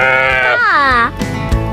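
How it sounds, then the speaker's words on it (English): A sheep bleats a single loud, wavering baa close by, followed by soft background noise, set against cheerful children's farm-song music. "The sheep says baa."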